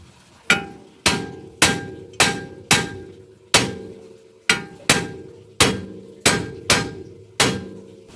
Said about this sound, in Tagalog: Pupugin natin to. Basta natin yan. Ayan, martilyuhin natin.